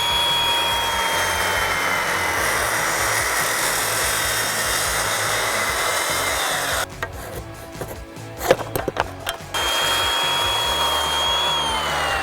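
Power saw cutting a wooden stair stringer with a loud, steady high-pitched whine, dropping into a brief rattling pause mid-cut before resuming, close up and with no voices.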